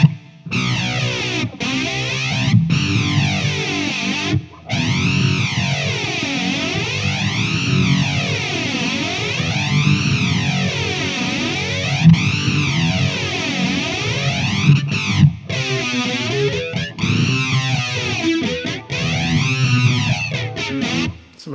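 Electric guitar played through a Zoom 505 multi-effects processor with distortion, a sweeping phaser-flanger and heavy reverb, a loud continuous riff whose swirling comb-like sweeps rise and fall every couple of seconds, with brief gaps between phrases.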